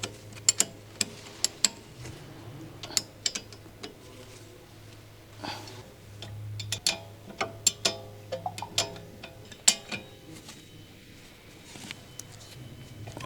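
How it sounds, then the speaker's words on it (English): Wrenches tighten the brake caliper bolts on a Ford Explorer during a rear brake pad job, giving faint, close metallic ratcheting clicks and ticks, spaced irregularly, over a low steady hum. "Use 13mm and 17mm wrenches to tighten the bolts."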